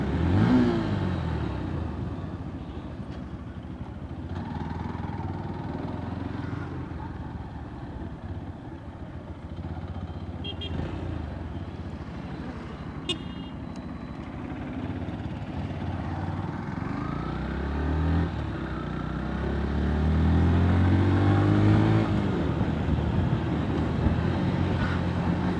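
Yamaha FZ-S Hybrid FI Version-4 motorcycle being ridden, a steady engine drone with wind rush running continuously throughout, swelling louder near the end as the bike picks up speed.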